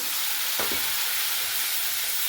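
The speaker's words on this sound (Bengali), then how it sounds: "মশলাটা কষে নিচ্ছি ভালো করে।" Cumin powder, hot and Kashmiri chilli powders, slit green chillies and salt cook down with a splash of water in a pan for a satin fish curry, giving a steady, soft sizzle throughout.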